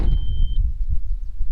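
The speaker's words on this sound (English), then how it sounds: "The door's closed, but it still beeps." A thin, steady door warning tone sounds briefly at the start over a low rumble inside a Nissan R50 Pathfinder, still beeping with the door closed, then fades, leaving only the dull background hum.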